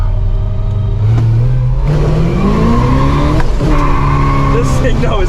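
A 1969 Chevelle Yenko tribute with a 375-horsepower engine runs loud and close, its harmonics shifting up and down as it revs, with people talking over it.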